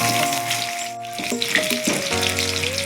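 Steady sizzling of onions frying in hot oil, loud and close, with tonal background music running over it throughout.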